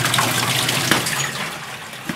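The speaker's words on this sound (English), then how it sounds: "It's filling back up." A top-loading clothes washer fills with water, a steady close gushing and splashing stream running loud and unbroken from start to finish.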